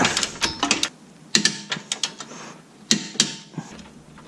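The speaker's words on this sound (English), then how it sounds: "Now we're going to tighten this camber bolt that came with the kit to 55 foot-pounds." A ratchet wrench tightens a camber bolt on a Subaru BRZ lower control arm, making close, crisp bursts of rapid clicking separated by short pauses.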